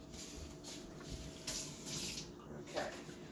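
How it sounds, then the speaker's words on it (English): Tap water running over a spoon at a kitchen sink while baking a cake, a steady close splashing stream with small shifts in spatter as the spoon moves under the flow, no talking. "Now I'm going to wash this spoon off"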